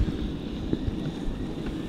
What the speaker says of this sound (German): es ist ganz schön Wind